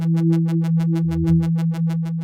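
A sustained Pigments synth pad holds a steady low chord with a pulsing, evenly repeating upper shimmer from an LFO, loud and continuous throughout with no voices.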